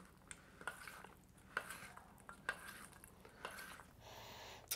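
Soft clinks of a utensil against a bowl as a chickpea and vegetable salad is stirred, irregular taps and scrapes at close range with no talking.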